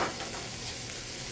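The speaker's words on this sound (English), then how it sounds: "We're going to put our onions right in" Chopped onions sautéing in olive oil in a pan, a brief, soft, steady sizzle with no distinct stirring strokes, heard alone without talk.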